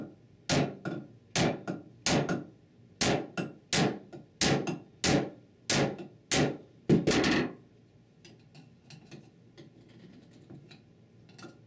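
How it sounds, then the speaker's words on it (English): A large screwdriver is struck with a hammer to collapse the front pump seal of a Ford E4OD/4R100 automatic transmission. About ten sharp metallic blows land in a steady rhythm, close and loud, followed by faint clinks and shuffling. "Remove the front seal by collapsing it with a large screwdriver and hammer."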